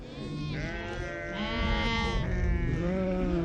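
Sheep from a flock in the high Atlas mountains bleat in overlapping, wavering calls, close and fairly loud, with several animals crying at once over faint background noise.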